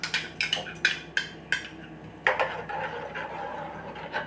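A spoon stirring Amul milk mixture in a bowl, a run of sharp clinks and taps against the sides followed by softer continuous swirling, close and alone.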